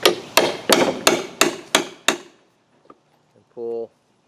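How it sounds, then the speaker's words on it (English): Deck boards set on a diagonal deck are struck hard six or seven times in a steady rhythm as the crew pries and fixes each board tight. A brief whirring burst from a screw gun follows after a pause. "the guys are just using a pry bar to push it in and screwing the board tight"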